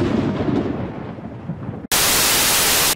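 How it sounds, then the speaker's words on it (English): Thunder from a cartoon thunderstorm: a rumbling, rain-like wash, a brief drop-out, then a loud, harsh crash of static-like noise. "there's a bit of a thunderstorm out here"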